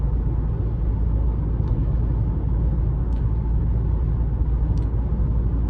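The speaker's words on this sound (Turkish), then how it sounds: "Sol taraftan birazcık rüzgar sesi alıyor gibi bu hızlarda." Inside a Mercedes-Benz GLB200 4MATIC AMG cruising at 90 km/h, a steady broadband wind and road roar fills the cabin, loud and unbroken, with faint wind whistling from the left side.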